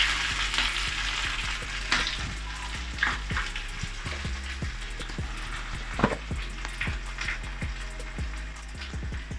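Kichadi (pongal) ingredients frying in a pan in Tamil Nadu style, a soft steady sizzle punctuated by frequent sharp taps and scrapes of a spoon stirring against the pan, close and without voices.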